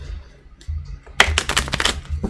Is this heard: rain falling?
no